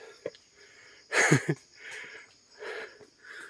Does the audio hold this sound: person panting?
yes